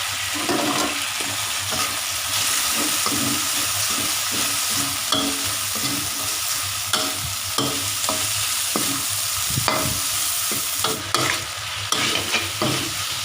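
Steady loud sizzling from a hot pan, with repeated scraping and stirring strokes as fried chicken hearts are tossed and fried up close.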